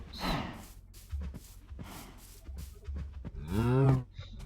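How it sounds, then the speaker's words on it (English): Cows in the game Minecraft low and moo in several drawn-out calls, fairly close, with a louder, longer moo near the end and quiet gaps between. "And then of course here you got the lovely cows."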